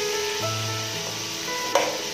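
Steady sizzling of shrimp frying in a pan for prawn fried rice, continuous and close, with a brief clack of a utensil near the end.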